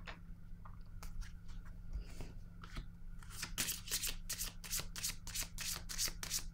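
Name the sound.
shuffling tarot cards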